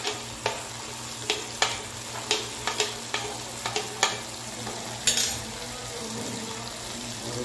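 Ginger garlic paste sizzles in a pan for macaroni under a soft steady frying hiss, with about a dozen sharp scrapes and clicks of a spoon stirring at irregular intervals.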